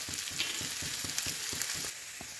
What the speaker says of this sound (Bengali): আমার পেঁয়াজটা কিছুটা ভাজা ভাজা হয়ে এসছে